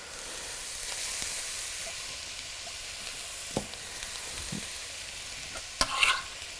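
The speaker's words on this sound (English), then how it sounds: "You want to hear that nice sizzle." Steady, faint sizzling and crackling of onions frying in oil in a pan, with a few sharper pops and clinks of stirring near the end.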